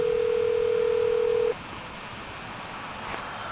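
A telephone ringing tone on an outgoing call: a single steady electronic tone held for about a second and a half, then silence with faint background hiss while waiting for the next ring.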